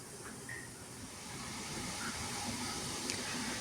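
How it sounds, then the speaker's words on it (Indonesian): A constant low rumble and hiss of water boiling in a steamer for making sweet fermented glutinous rice, steady throughout with faint bubbling and no talk. "Air dalam kukusan sudah mendidih."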